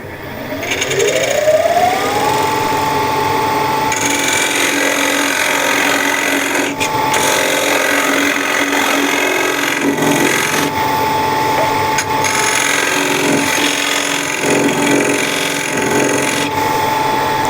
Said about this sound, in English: And now just to make a dovetail shape, just use a skew.